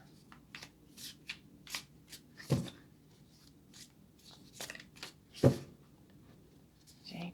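A deck of cards being shuffled by hand, faint, quick riffling bursts and soft clicks with two sharper snaps, heard close and quiet with no other sounds.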